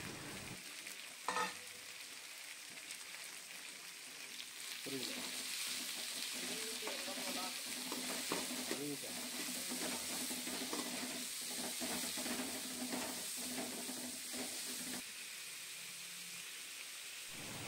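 Onions, tomato and chicken masala powder sautéing in a pan for chicken gravy, a steady hiss and crackle running throughout with occasional clatters of stirring and faint talk in the background.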